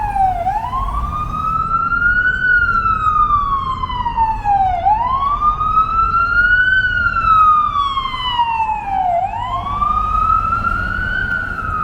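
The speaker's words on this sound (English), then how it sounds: "How long does it take an ambulance to get through?" Ambulance siren wailing on a Brooklyn street, loud and close, sweeping up and down in long repeated cycles over steady traffic rumble.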